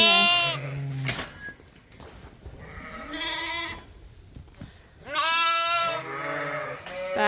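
Several sheep bleat loudly and close by, long wavering calls in overlapping bursts with short quieter gaps between them.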